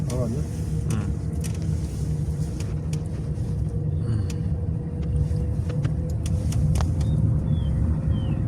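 A car engine drones steadily up close on a road during a driving-school lesson, a continuous low rumble with faint voices over it.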